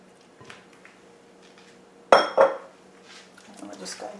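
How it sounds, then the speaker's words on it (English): Strawberries being stirred into cake batter in a bowl: two sharp clinks and scrapes of a utensil against the bowl come close together near the middle, then quieter soft stirring noises, with no talk. "we're just going to stir in the strawberries"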